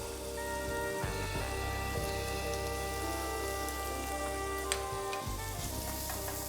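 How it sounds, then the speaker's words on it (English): A chicken carcass browning with onions and carrots for a simple broth gives a steady, close crackling sizzle with a faint tonal hum underneath, and no voices. "The carcass needs to be brown a little bit, and they really have to be browned with onions and carrots"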